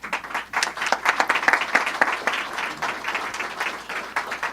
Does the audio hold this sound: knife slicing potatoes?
no